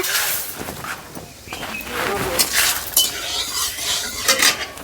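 Bay leaf dropped into hot mustard oil in a kadai for chicken kosha, a soft crackle and sizzle with light clinks of a utensil against the pan, close by.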